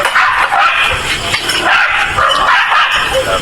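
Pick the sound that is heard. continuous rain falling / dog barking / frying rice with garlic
dog barking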